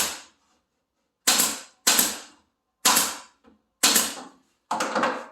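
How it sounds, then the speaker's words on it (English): Pneumatic stapler driving 1/4 inch staples into a crown molding joint, five sharp snapping shots in an uneven rhythm with short silences between, close and loud, with no talk. "I run a bunch of staples right on the inside like that"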